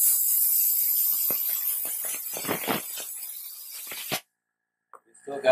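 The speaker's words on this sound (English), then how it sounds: "Clean it up with compressed air." Compressed air sprays in hissing bursts over the frame of an iPhone 6S during glass replacement cleaning, loud and broadband for about four seconds before cutting off abruptly, followed by faint noise.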